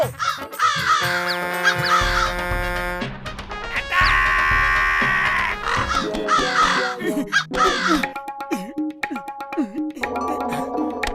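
Cartoon crows caw repeatedly and loudly as they swoop in to attack, their harsh calls layered over busy animated music and sound effects, continuing in bursts throughout.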